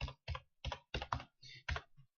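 Typing on a computer keyboard in quick separate keystrokes, about seven taps in two seconds, close and fairly quiet, with no talking.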